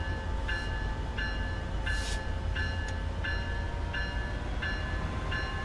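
A Metrolink F59PHR diesel locomotive in Train Sim World 5 rumbles at a steady, loud idle, with a faint regular tone pulsing roughly twice a second over the engine drone.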